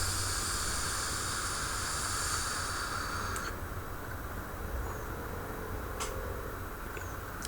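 Vape running at 240 watts with the drip-tip airflow opened, a steady broadband hiss of vapor production lasting several seconds, close and continuous, with a couple of faint clicks.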